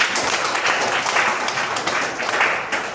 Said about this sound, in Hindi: आंटी जी के लिए जोरदार तालियां